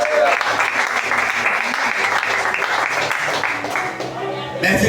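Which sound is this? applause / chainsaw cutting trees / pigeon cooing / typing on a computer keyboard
applause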